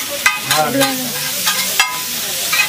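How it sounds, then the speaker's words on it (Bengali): Chow mein, mixed with chicken and corn, stir-fried in a pan at a Chinese food stall, with loud continuous sizzling and repeated metallic spatula scrapes and clanks, close up. "এই যে দেখতে পাচ্ছি এখন ভাজা হচ্ছে চাউমিন"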